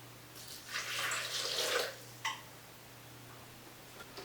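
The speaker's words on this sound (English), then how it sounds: "we're going to add 1 cup of water to this" One cup of water pours briefly into a pot for plant-based queso for about a second, followed by a short splash, then quiet with a faint steady hum.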